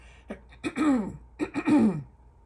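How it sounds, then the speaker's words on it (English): A person clears their throat twice in two rough, gravelly bursts, close and fairly loud, with short silence between. "I just got to clear my throat."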